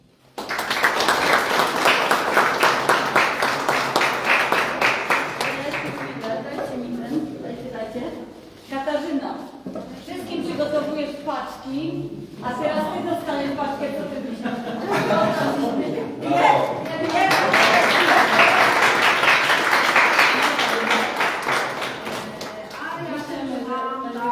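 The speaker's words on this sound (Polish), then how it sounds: "dawać wielkie brawa" Audience at a charity gift-drive finale in Zawiercie applauds loudly and steadily, a dense wash of clapping that fades into a quieter stretch with speech and chuckles, then swells again into strong applause.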